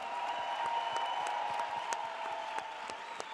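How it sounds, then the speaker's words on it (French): An audience at a festival comedy stage claps steadily, a dense, even patter of many hands heard from a distance at moderate loudness with no voices over it. "Je vous demande encore d'applaudir bien fort Mathilde Larère qui était avec nous ce soir."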